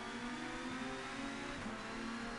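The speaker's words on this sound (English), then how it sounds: "But John Cleland's car is getting nearer and nearer" Touring car engine in the racing game TOCA 2 Touring Cars at the Croft circuit, a steady, buzzing drone held at high revs for a couple of seconds with no talk.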